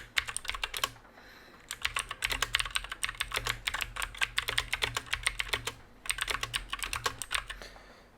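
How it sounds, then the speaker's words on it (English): Fast typing on a SteelSeries keyboard with clicky blue switches: dense, loud bursts of sharp key clicks close by, briefly pausing around the one-second mark and again near six seconds, with no voices. "Now I will switch to my SteelSeries one with the blue keys, clicky keys."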